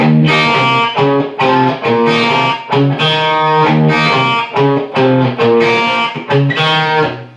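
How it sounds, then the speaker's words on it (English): Heavily distorted electric guitar plays an alternate verse lick, a choppy, rhythmic riff of short palm-muted stabs and ringing chords, loud and close with no voices. "that's the alternate verse lick"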